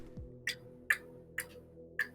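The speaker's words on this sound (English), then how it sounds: "You're still clicking your tongue" Someone clicks their tongue during a tabletop role-playing session, four sharp, quiet clicks spaced about half a second apart over a faint background hum.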